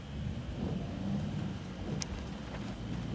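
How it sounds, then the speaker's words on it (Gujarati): Heavy rain falls steadily in a dense, continuous wash that stays loud and close the whole time, with a brief sharper crack partway through and no voices. "વિચાર કર લો કેટલો વરસાદ પડતો."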